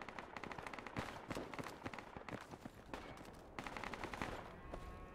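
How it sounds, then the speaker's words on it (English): Gunfire in the military shooter game Project Reality sounds faint and distant, with scattered bursts and single shots crackling over a busy background. "I hear some gunshots over here"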